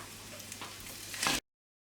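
Beef is added to melted fat in a hot saç pan for kavurma and sizzles steadily, with the frying swelling into a louder hiss near the end of the short stretch before cutting off.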